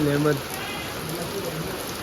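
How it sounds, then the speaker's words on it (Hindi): Steady rain falls at dawn in the cool-to-warm changing season, a continuous wash of close patter, with a voice briefly heard at the start. "तो ये देखो बारिश चालू हो गई है।"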